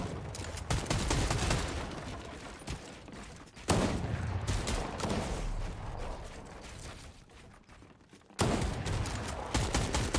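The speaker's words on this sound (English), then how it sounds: "Shots coming in right now." Rapid bursts of automatic gunfire and clattering weapon sounds in a competitive video game shooter match, loud and dense, broken by two brief pauses.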